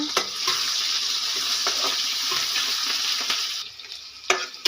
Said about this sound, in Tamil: இப்போ காஞ்ச மிளகா, பச்சை மிளகா, வெங்காயம் நல்லா கலக்கி விடலாங்க.